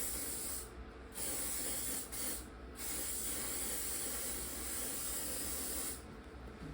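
Hair product hisses from a spray can onto hair being styled into a swoop ponytail, in several close bursts separated by short pauses.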